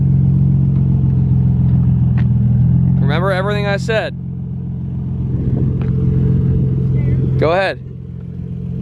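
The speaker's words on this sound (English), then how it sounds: "Exhaust leak sounds horrible." A Nissan 350Z Nismo with an exhaust leak idles and revs in a steady low drone inside the car, with a brief rise in engine pitch; people talk over it twice.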